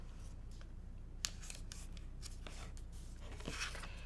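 Scissors or a cutter slicing through quilt fabric in several short, quiet snips and rasps at close range, with no voices.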